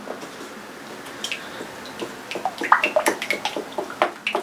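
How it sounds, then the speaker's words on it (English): Thinned paint being stirred carefully in a bucket, giving soft wet sloshing and dripping sounds that grow busier and louder toward the end, with no talking. "So I'm going to stir carefully, because that's trying to splatter up off the edges there."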